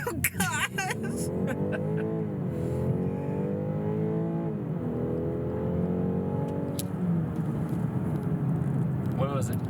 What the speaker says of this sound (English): All right, I'm gonna launch it. We're gonna brake boost.